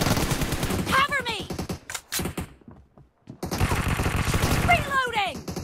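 Gunfire from the mobile battle royale game PUBG Mobile, with dense bursts of rapid shots around the first and last few seconds, a brief quiet gap midway, and a voice speaking over the shooting.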